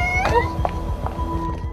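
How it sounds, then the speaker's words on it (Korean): A small, weak kitten in distress cries from somewhere out of sight, a few short thin meows rising over a steady hum and low rhythmic background noise. "어디선가 들려오는 고양이 울음소리."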